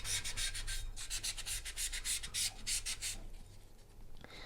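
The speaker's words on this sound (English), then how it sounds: "so I'm just going to sand this" Steady rhythmic rubbing of a 3M sanding sponge against a ceramic piece's edges, fast back-and-forth strokes, close and continuous before slowing near the end.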